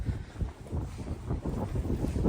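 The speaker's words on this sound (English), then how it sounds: "It's very windy today, isn't it" Strong gusty wind buffets the microphone with a steady low rumble and roar, no voices heard.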